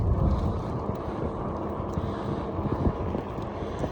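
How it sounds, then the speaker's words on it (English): Breezy wind buffets the microphone during an e-bike ride on the Nature Coast Trail in northwest Florida, a continuous low rumbling roar with no voices. "a little breezy today"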